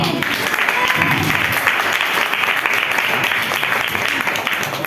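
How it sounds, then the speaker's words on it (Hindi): Congregation in a Hindi-speaking church clapping together in praise: loud, dense, continuous applause filling the room with a crowd wash, sustained throughout without pause. "प्रभु को महिमा मिले तालियों के द्वारा।"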